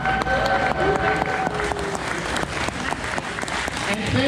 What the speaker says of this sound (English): Let's have a nice round of applause for Lou Mongello.